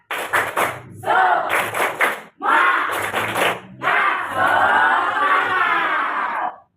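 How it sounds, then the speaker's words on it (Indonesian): Children perform a rhythmic 'tepuk semangat' spirit clap in class, loud patterned bursts of claps alternating with shouted chanting in short groups, then a longer stretch of excited voices. "Tepuk semangat."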